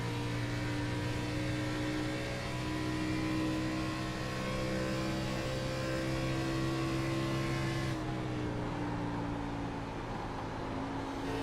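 Race car engine in a racing video game at Pocono, a loud steady high-pitched drone that holds, then drops in pitch as the throttle eases off.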